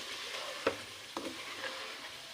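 Palak gosht with tomato frying in a pan, a soft steady sizzle broken by a few sharp scrapes and clinks of a stirring spoon, with no voices.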